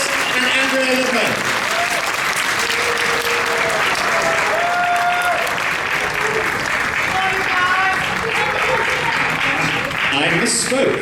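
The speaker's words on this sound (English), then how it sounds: "applause and a farewell till next time" Convention audience at a furry con gives a long, loud and steady round of applause as a farewell to departing panel guests, with faint voices under the clapping.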